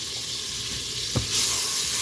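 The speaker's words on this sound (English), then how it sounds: "Y'all hear the sizzle?" Food sizzling in a pan on a stovetop burner set to low, a steady bright hiss with a brief clink or stir partway through, close and without talk.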